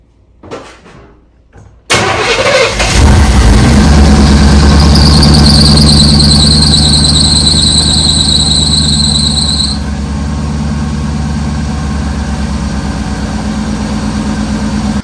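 A 1987 Chevrolet C10 pickup engine cranks and catches with a loud high squeal, then settles into a steady, rumbling idle; the whine fades partway through while the idle continues.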